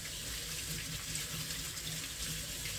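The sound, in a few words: washing hands under running tap water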